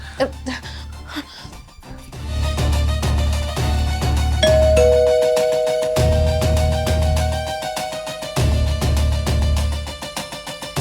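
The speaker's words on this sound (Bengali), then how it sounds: "কতক্ষণ যাবত আমি কলিং বেল দিচ্ছি" A doorbell rings at a home's front door, sounding clear, repeated chimes over a steady, loud background with low pulsing tones.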